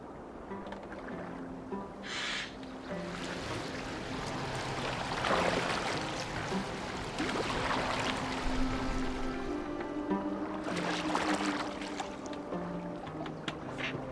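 A boat moves on water in Assassin's Creed Valhalla, with soft lapping and splashing that rises and falls in bursts over a low, quiet background, while faint music plays underneath.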